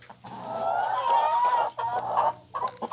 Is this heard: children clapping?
no